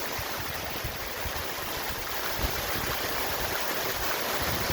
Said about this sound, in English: Hail and pouring down rain.